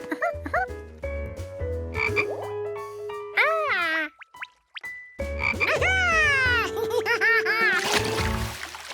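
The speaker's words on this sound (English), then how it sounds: "Sproingy, the most awe-inspiring toy frog that ever lived" A cartoon toy frog croaks in a series of loud, bouncy, warbling calls with a springy boing quality, alone with no talk, pausing briefly midway before the croaking resumes.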